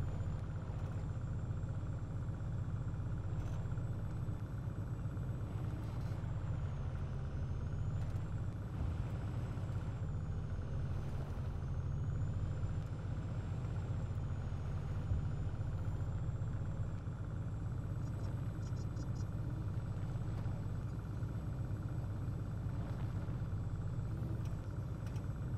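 An AMV-7 Marshall armored vehicle in Arma 3 drives with a steady low engine rumble and drone that continues unbroken throughout, with faint mechanical clicks over it.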